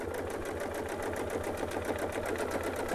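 A sewing machine stitching a clamshell quilt pattern using a Westalee Design template, giving a steady, fast, rhythmic mechanical whir that runs unbroken throughout at moderate volume.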